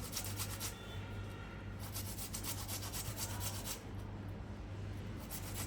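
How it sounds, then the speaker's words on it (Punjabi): Fresh ginger rubbed over a hand grater in a home kitchen, a steady close scraping rasp with a few short pauses, no voices. "ਇਹ ਜੀ ਮੇਰਾ ਅਦਰਕ ਕਸ ਆ"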